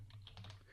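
Typing on a computer keyboard while entering a formula into an Excel worksheet cell, a brief soft flurry of keystrokes heard close up over a steady low hum.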